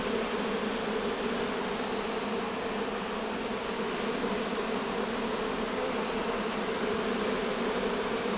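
Spring honeybee swarm being hived, a dense, steady, close buzzing drone that continues unbroken throughout.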